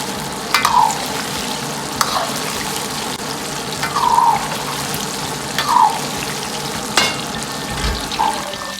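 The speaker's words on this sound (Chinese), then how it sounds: "炸汤圆的油温不要太高，也别太低，保持中小火下入汤圆。" Glutinous rice balls (tangyuan) deep-frying in oil over medium-low heat, a steady close bubbling hiss broken by several clinks and scrapes of a ladle pushing them around the wok.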